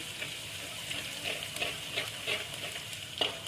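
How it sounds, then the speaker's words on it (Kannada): Peeled, pounded garlic frying in oil, a faint steady sizzle with occasional scraping taps of a stirring utensil, close and quiet, no voices. "ಗಡ್ಡೆ ಬೆಳ್ಳುಳ್ಳಿ ತಂದು ಸುಲಿದು ಮಾಡಿ ಕುಟ್ಟಿ ಈ ರೀತಿ ಎಣ್ಣೆಗೆ ಫ್ರೈ ಮಾಡ್ಕೊಳಗತ್ತೀನಿ ರೀ"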